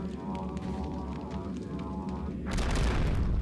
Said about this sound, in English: Oh, they're all exploding.